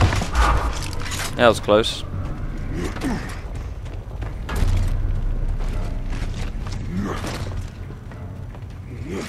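A frag grenade in the Gears of War game lands and blows up with a low boom and rumbling debris, heard partway through steady battle noise while someone talks over it.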